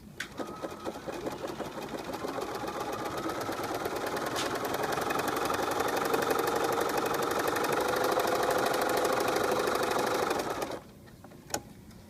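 A sewing machine runs a longer zigzag stitch along a fabric hem edge, with a fast, steady mechanical whir and rhythmic needle chatter for about ten seconds before stopping, followed by a couple of faint clicks.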